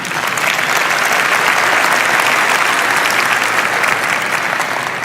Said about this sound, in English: Only at GTC do you get an applause for that